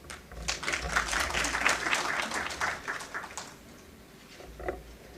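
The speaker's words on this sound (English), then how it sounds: "I think we can clap." An audience at an event honoring India's chief justice claps in a scattered, thin burst, fairly faint and uneven, tapering off after about three seconds before a few stray claps.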